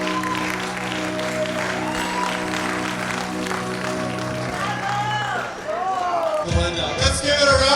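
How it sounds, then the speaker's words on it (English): Audience clapping at a gala night, steady dense applause under a sustained musical tone that breaks off near the end, where a voice starts speaking over the crowd. "Let's give it a round of applause again for the Angelos, as well as Renee Salud"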